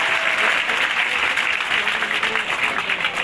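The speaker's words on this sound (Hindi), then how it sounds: "जोरदार तालियां बजाओ" Loud, steady applause from a school audience, continuous clapping filling the whole stretch without pause.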